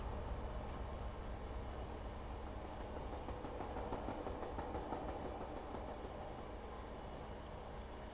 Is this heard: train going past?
yes